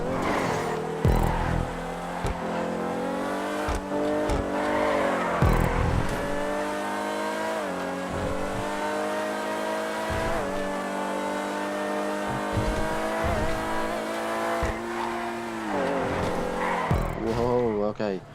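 Principe Deveste Eight supercar in GTA 5, engine revving with rising and falling pitch through acceleration and gear changes, tires squealing as the rear end slides out in a corner, loud and continuous for the whole stretch.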